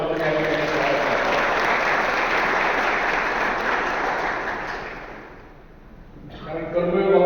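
A large audience at a winter camp gathering at a sugar factory in Shahaji Nagar, Indapur, claps steadily and loudly for about five seconds to welcome the vice-chancellor, then fades before a voice starts speaking.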